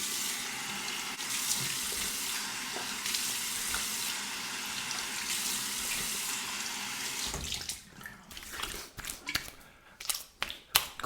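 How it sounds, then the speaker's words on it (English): Cold water runs steadily from a tap for several seconds, then breaks into choppy splashes as hands scoop and rinse a face under the stream after shaving. "Now a cold water rinse to the face."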